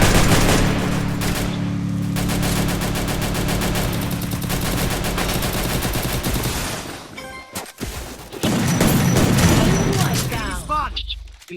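Rapid bursts of gunfire in the Free Fire video game, dense automatic fire nearly continuous with a short pause, then more shots, voices talking over the action.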